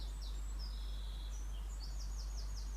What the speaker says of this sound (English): I can hear the birds outside.